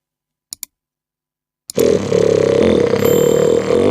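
A mouth imitates a rocket launch with a few quick clicks, then a loud, sustained roaring rumble like an engine firing up and holding steady.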